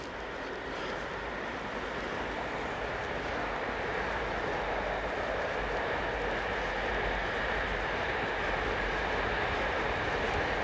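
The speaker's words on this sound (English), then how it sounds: "Got to get the classic train going across the bridge" Classic train crossing a bridge, a broad steady rumble and roar that swells gradually over ten seconds, heard from a distance with no voices over it.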